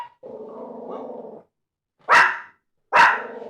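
Dogs growl in a low sustained rumble for over a second, then two loud, sharp barks follow after a short pause, close and clear with no talking.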